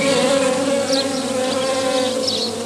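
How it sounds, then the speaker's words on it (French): Drone bees buzz steadily and close around ivy flowers, a continuous droning hum with no voices present. "Alors arrivent les faux bourdons qui adorent le pollen du lierre"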